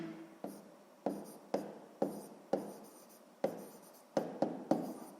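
Pen or marker strokes while notes are written out in a sixth-grade maths exercise, a steady run of about ten sharp scratching taps, each fading quickly, close and quiet with no voices.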